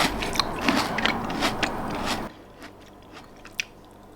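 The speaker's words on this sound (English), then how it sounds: "this variety of grapes is my favorite because the skin is just so crunchy" Crisp bites and chewing of crunchy-skinned grapes, several sharp crunches in quick succession up close, then quieter chewing with occasional crackles.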